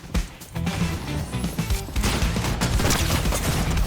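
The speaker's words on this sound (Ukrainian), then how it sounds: "стріляє він по мені" Gunfire in the video game Fortnite, a dense run of rapid shots and crashing impacts that keeps going through the whole stretch, loud and close, with a fuller burst in the second half.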